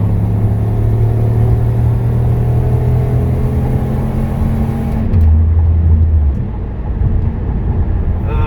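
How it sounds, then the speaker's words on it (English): A truck passes on the road while heard from inside a moving car, a steady loud engine and road rumble that swells and shifts as it goes by, with no talking. "Now there's a truck coming now"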